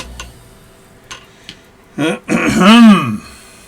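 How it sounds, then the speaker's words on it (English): A person clears their throat with a short voiced rasp, preceded by a few faint ticks and taps at a watchmaker's lathe in an otherwise quiet room. "Clear my throat."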